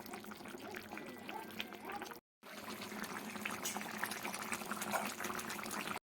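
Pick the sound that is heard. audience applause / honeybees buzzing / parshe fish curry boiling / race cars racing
parshe fish curry boiling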